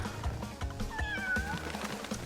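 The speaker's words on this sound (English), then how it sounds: "Meow meow meow." A cartoon cat meows a few times over steady background music in the video game Crash Bandicoot Warped, the calls rising and falling, fairly close and moderately loud.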